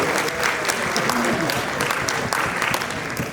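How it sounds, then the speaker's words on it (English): Audience applause at an Africa Day festival event during a mayor's speech, a dense continuous burst of clapping with a low voice murmuring beneath it. "Big round of applause for George."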